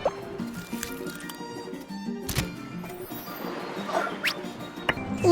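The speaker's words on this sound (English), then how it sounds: "Let's squeeze out the condensed milk." Condensed milk squeezes from a pastry bag in a Babybus ice cream truck game, giving soft squishy, drippy squelches over light cartoon music, with a bright chime at the close.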